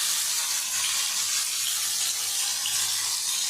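Fish frying in hot oil in a pan, a steady, dense sizzle that stays constant and fairly loud throughout, with no voices.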